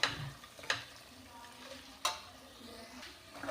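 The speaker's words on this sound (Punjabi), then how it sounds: "ਆਪਾਂ ਜੀ ਲਗਾਤਾਰ ਹਿਲਾਉਂਦੇ ਹੋਏ ਇਹਨੂੰ ਪਕਾ ਲਾਂਗੇ" Ground garlic, onion and ginger masala cooking in a pan, with a soft continuous sizzle and a few sharp scrapes of a spoon as it is stirred, fairly quiet with no speech.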